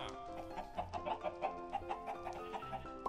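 Chickens in the Minecraft video game cluck in a quick, repeated rhythm of short calls, steady and clear over a faint background.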